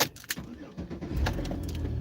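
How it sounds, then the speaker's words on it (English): A car key jingles as it is inserted and turned in the ignition, followed by the engine cranking and catching into a steady, low idle that continues to the end. "We put the key in and turn it forward, away from us."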